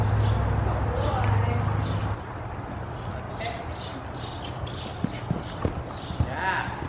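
A horse canters toward a jump during a riding lesson, its hooves landing in a steady three-beat clip-clop on arena footing. Wind rumbles loudly at the start, and a few sharper hoof strikes come near the end.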